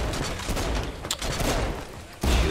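Rapid bursts of gunfire from shooting in the game Saints Row: Gat out of Hell, dense and loud, cut by a brief lull before another heavy volley.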